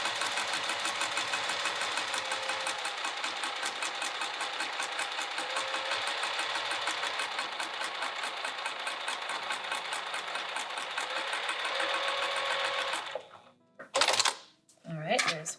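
Stitching with the stitch length set longer, a sewing machine runs at a fast, steady clatter for about thirteen seconds while sewing a piped bag, then cuts out, followed by a few short handling knocks.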